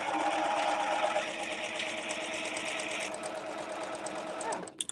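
A serger sewing machine runs continuously while stitching fabric, a fast steady whirring buzz at close range that stops abruptly near the end, followed by a couple of small clicks.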